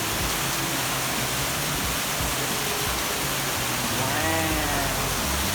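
A powerful waterfall roars close by, a loud, unbroken wash of rushing, crashing water filling everything.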